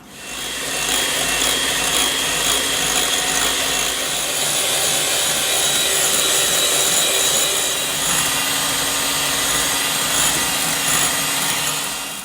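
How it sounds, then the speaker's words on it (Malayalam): An electric mixer beating egg with vanilla extract for an almond cake, a loud continuous whirring drone that runs steadily through the whole stretch with slight rough variation, close and without voices. "Beat the egg and vanilla extract together."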